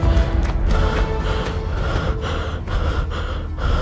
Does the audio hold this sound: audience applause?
no